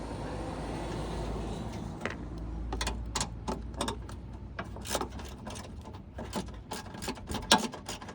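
Tools clicking and clunking while a bracket comes off during a Cobb SF intake install on a 2017 Subaru STI: a run of sharp, separate metallic clicks and knocks, near and fairly steady, over a low rumbling background with no talk.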